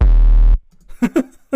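Sustained sub bass synth built from a clipped sine wave with tube distortion, a loud buzzing low tone holding steady for about half a second before cutting off, followed by brief talking.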